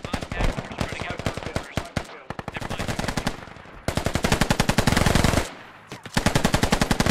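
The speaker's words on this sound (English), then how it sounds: "he is spamming it with all the bullets he can at range" Rapid automatic gunfire in the game Squad, sustained bursts aimed at a TOW launcher at range, loud and continuous with brief pauses between strings of shots.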